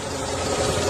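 A car engine with a suspected cylinder head gasket problem idles in a garage, a steady close mechanical hum and rumble with no talk over it.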